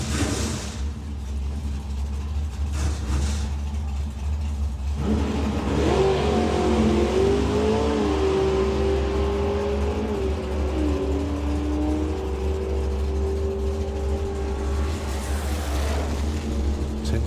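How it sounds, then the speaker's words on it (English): A Morris van drag car with a 347 cubic inch V8 revs hard and accelerates away at a nostalgia drag race, a loud rising engine roar with clear gear-like pitch sweeps over steady crowd and track noise. "The Morris van with a 347 cubic inch V8 up front."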